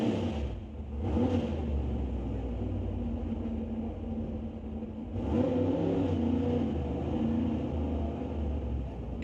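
A drag racing car at an NHRA Northwest National Open Series event, refired after stalling following its burnout, roars loudly and steadily, idling rough and then surging into a harder rev partway through.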